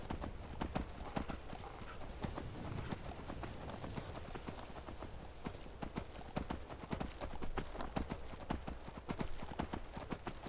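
Horse hooves clip-clop steadily in a rapid, even rhythm while riding in the Skyrim video game, close and continuous throughout, with an occasional faint whinny and no talk over it.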